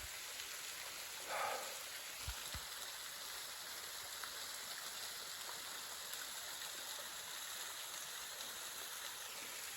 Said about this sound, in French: Un petit filet d'eau.